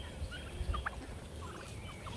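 Turkeys on a mixed farm gobble in short bursts, a few brief calls standing out over steady outdoor background.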